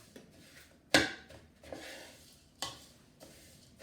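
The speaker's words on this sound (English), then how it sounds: "So now I'm going to mix it all up." A spoon stirring a crumbly oat flapjack mixture in a bowl, with a few distinct scraping strokes and knocks against the bowl, close and quiet, with no talking.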